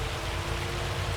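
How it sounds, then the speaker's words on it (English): Hail pours down in the farming game Farming Simulator 25, a dense, constant rushing patter with a low rumble underneath, heard alone and fairly loud. "So the hail's supposed to stop at about 1 o'clock."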